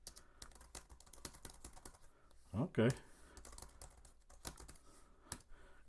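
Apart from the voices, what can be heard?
typing on iPad 10th generation keyboard case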